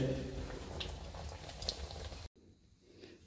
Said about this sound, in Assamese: এইবাৰ মা ব্যস্ত আকৌ বিহুৰ পিঠা বনোৱাত, তেল পিঠা বনাই আছে